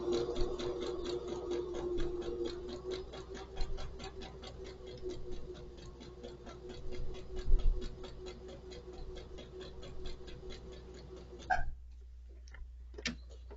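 A domestic sewing machine stitches a quarter-inch seam in curved quilt piecing, giving a steady rapid mechanical ticking and whirring that runs for about eleven seconds and then stops, followed by a few faint clicks.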